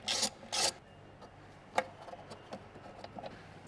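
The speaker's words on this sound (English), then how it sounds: "We can undo the 10mm little M6 bolts to hold the injector drivers in place" Two quick rasping ratchet strokes, then a scatter of faint clicks and ticks, as small 10mm M6 bolts holding the injector drivers are undone on a Landcruiser 70 series V8, heard close and quietly.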